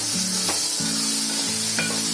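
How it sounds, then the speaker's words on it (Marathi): Masala spice paste fries in hot oil with a continuous close sizzle, broken by a few scraping strokes from a spoon. "आता आपण बोलतो ना मसाला तेल सुटेपर्यंत फ्राय करायचा"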